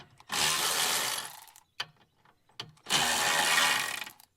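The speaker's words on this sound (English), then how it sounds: "this Milwaukee, whatever it is, 12 volt socket driver, just about the greatest thing ever" A Milwaukee 12-volt cordless socket driver works bolts loose on a John Deere 5075E tractor: two loud, close, whirring bursts of about a second each, with brief clicks and clanks between them.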